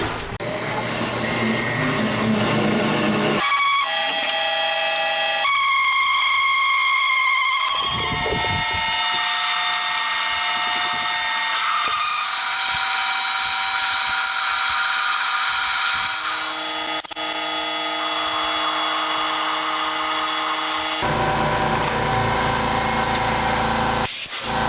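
A metal lathe grinds and whines through a long cut parting off a metal shaft, with shrill ringing tones and scraping noise that shift as the tool bites deeper.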